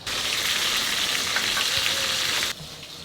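Cumin seeds frying in hot oil give a steady, close, dense sizzle that drops off abruptly near the end. Nobody speaks.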